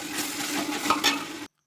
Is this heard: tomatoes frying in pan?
yes